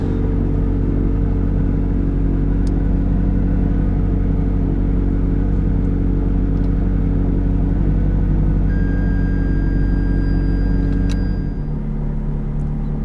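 McLaren 675LT supercar being driven out of its garage, its engine giving a loud, steady low rumble close by throughout, with a brief shift in tone near the end and no talking.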